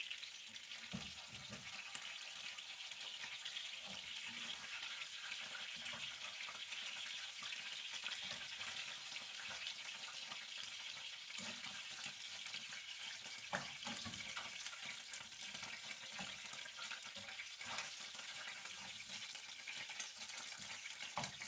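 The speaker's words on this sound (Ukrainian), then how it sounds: "І так досмажуємо рибку до кінця і викладаємо у чавунчик." Fish fries in a pan with a steady, even sizzle of hot oil that holds for the whole stretch, with faint clinks and stirring noises underneath and no talk.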